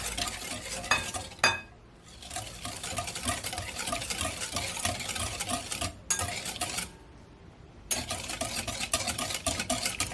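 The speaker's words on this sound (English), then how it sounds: "I'm gonna give it a stir." Butter and granulated sugar are stirred in a bowl for a pineapple upside-down cake, producing a continuous close scraping and swishing with two brief pauses, no talking.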